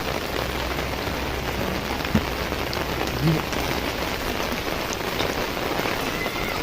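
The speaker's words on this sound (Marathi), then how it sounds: "खूप पाऊस पाणी पावसाने भिजला आहे बघू शकता तुम्ही" Heavy rain pours down in a dense, steady hiss of drops hitting surfaces, close and loud, with only a faint bump or two breaking the even roar.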